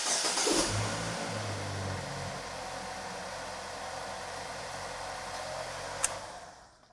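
A GM 2.4 VVT engine runs after a solenoid replacement, giving a faint, steady, even hum at idle with one sharp click near the end.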